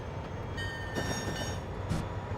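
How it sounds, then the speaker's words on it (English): A train in a railway video game rolls steadily toward Bayport, giving a continuous rumble with faint rail clatter and brief high squeals. "This is the train to Bayport."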